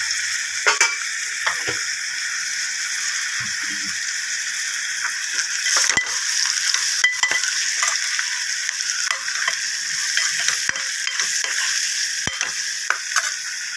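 Onions sauté in a pan for a green gram gravy, with a soft continuous sizzle and scattered scraping clicks of stirring, fairly quiet and without talk.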